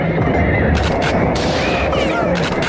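Gunfire sound effect in a Brazilian Portuguese radio spot: dense, loud bursts of shots and booms crowd the short stretch, mixed with crashing impacts, with no quiet gaps.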